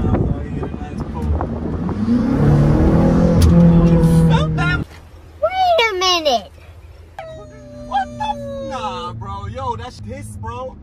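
A tuned BMW X5M F85 in M mode accelerates hard. The engine roar builds and climbs in pitch for several seconds, then drops after a shift, and excited voices talk and exclaim over it throughout.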